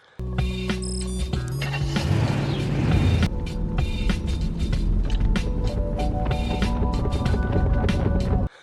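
Car speeding off, a loud engine roar that rises and holds steady amid rushing road noise and clattering film sound effects.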